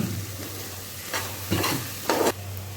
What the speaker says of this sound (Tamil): போட்டு அதையும் கிண்டி விட்டோம்னா நல்லா வதங்கட்டும்.